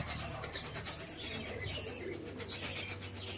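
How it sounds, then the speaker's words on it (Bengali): Soft cooing from a breeding pair of pigeons, with faint chirps over a steady low background hum, continuing throughout at moderate distance. "এটা হলো মাদি পায়রা"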